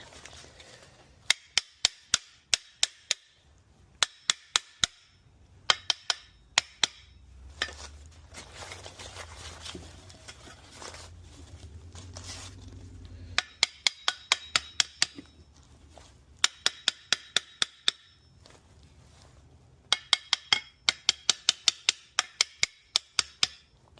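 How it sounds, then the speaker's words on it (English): Quick bursts of sharp metallic taps from a small hammer fitting a steering column bracket come in clusters, separated by pauses with faint rustling and clunks. "Let me get me a little hammer, do a little tapping."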